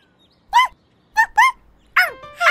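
A cartoon dog in a Korean animated series barks in four short, loud, clear yaps at uneven intervals, with near-silence between them and no talking.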